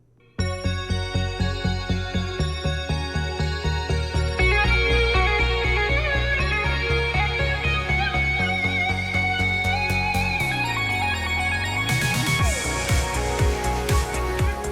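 Synthesizer patch imitating an 80s synthwave lead guitar plays a bright sustained melody over steady pulsing bass notes, with pitch bends and a swell of high sparkle near the end; loud and continuous with no talking.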